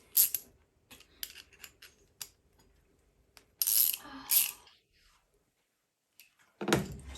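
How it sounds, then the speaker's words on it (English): A 10 mm 4-in-1 ring ratchet spanner tightens screws on a brake line flaring tool, giving scattered metallic clicks and ratcheting bursts close by, with some handling noise between. "I use the 4-in-1 ring ratchet spanner, 10 millimeter."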